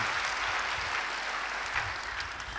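Congregation in a church clapping together, a dense, steady burst of applause filling the whole moment without speech.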